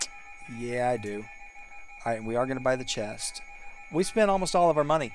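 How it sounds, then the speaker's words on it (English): A weather alarm rings steadily as a faint, constant electronic tone throughout, mostly masked by a person talking in the foreground. "you can hear my weather alarm going off"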